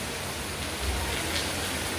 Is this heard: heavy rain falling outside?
yes